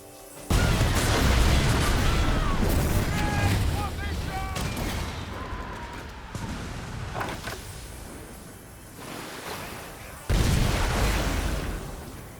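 Ship cannons on a fully upgraded frigate in Skull and Bones fire at a shark boss: heavy booms open the stretch and return near the end, with rumbling battle noise and whistling tones between them.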